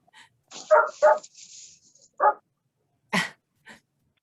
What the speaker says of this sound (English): we can hear the dog barking in the background